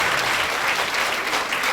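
A church congregation at a live service claps together in a short, steady burst of dense applause at even loudness, with no talk over it.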